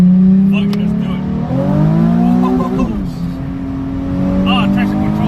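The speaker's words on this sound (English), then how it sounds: "Should I do the first gear pull?" A Nissan 370Z pulling hard in first gear, its engine note rising steadily in pitch with a brief dip midway, loud and close from inside the cabin with the windows down.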